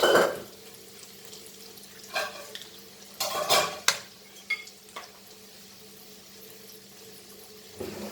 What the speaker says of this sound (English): Once this is fried, fry it both the sides.